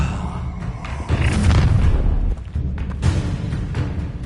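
Incendio fire spell cast in Hogwarts Legacy on PS5 bursts out as a deep, booming whoosh of flame, followed by a second heavy thud amid ongoing combat noise.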